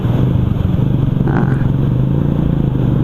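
A motorcycle with a rider roars past from behind on a road, its engine loud and close with a steady low drone and rising rev.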